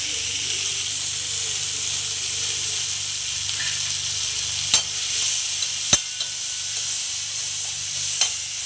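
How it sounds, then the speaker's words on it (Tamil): Tomato, onion and torn curry leaves sauté in a hot pan with a steady, close sizzle and hiss. A few sharp scrapes and taps of a stirring spoon cut through now and then. "இதை லைட்டாக வதக்கிக்கோங்க."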